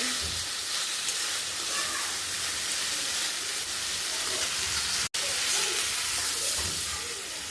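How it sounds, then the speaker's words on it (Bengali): Vegetables frying in a pan on a home stove give a steady, loud broadband sizzle and hiss throughout, with a brief dropout near the end, after water is added. "এখানে সবজিটা ভালো মতো একদম ভাজা ভাজা করে হচ্ছে পানি দিয়ে দিব"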